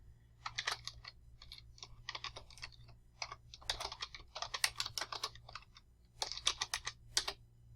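Keys clatter on a computer keyboard as text is typed into a spreadsheet, in irregular bursts of quick clicks with short pauses, close and clear over a low steady hum.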